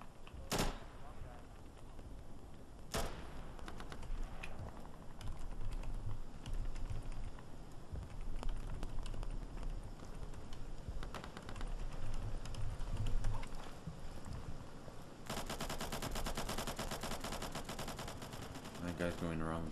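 Gunfire in the tactical shooter game Insurgency: sharp broadband shots and rapid automatic bursts crackle through a busy battle mix, with a louder volley near the end and a voice talking over it at times.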